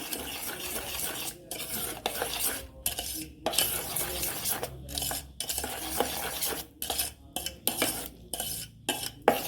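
A utensil stirs sugar and flour together in a bowl for an eggless banana cake, giving repeated scraping and clinking strokes with short pauses, close and moderately loud, no talking.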